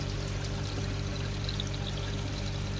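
Steady water flow from a 10,000 litre per hour koi pond pump running at 70%, a constant close pouring rush with a low hum underneath and no voices.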